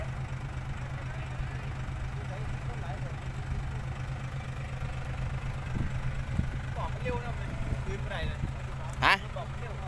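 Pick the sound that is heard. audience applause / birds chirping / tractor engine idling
tractor engine idling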